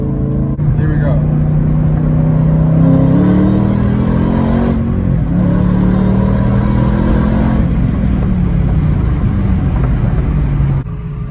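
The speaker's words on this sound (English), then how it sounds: "so you guys can hear the exhaust from the inside." A Shelby GT500 with an off-road X-pipe exhaust accelerates hard in second gear, heard from inside the cabin as a loud, deep, rising engine roar that climbs and falls steadily for about ten seconds.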